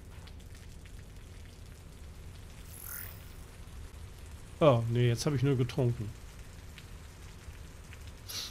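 Steady rain falling in the sci-fi survival game Osiris: New Dawn, a continuous soft patter throughout, with someone speaking German briefly over it midway.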